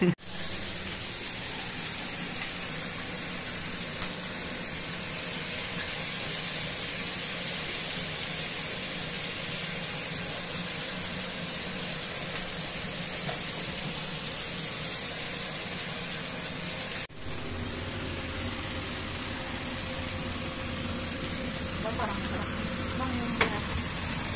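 Pork belly samgyupsal sizzles steadily on a home cooking grill, a constant close hiss of frying fat lasting throughout, with a brief shift partway through and occasional soft background voices.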